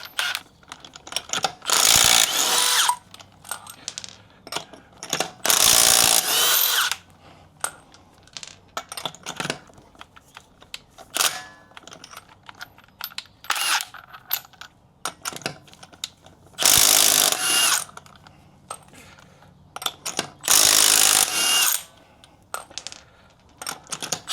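A Milwaukee M12 Fuel Stubby 2.0 impact wrench working Jeep wheel nuts: several loud, sharp bursts of rapid hammering, a few seconds each, separated by quieter gaps of clicks and handling noise.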